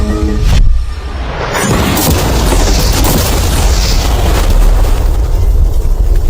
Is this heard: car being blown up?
yes